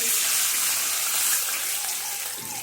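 Steady rush of water pouring continuously into flour, close and fairly loud, with no talking.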